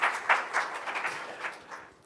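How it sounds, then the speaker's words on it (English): Applause from a conference audience after presentations, a steady patter of many hands clapping at moderate volume, tapering off slightly toward the end. "If we can give them another round of applause for those great presentations."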